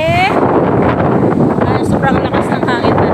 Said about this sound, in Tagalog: sobrang lakas ng hangin talaga, grabe, napaka-presko